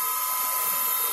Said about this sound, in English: But the spindle's spinning around and I could be cutting a penguin out.